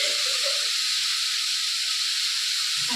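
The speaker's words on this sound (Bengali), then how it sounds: "এটা ভাজা হোক ফুলকপি" Cauliflower fries in a pan with a steady, close sizzling hiss that runs evenly throughout. A few faint low knocks sound near the start and end.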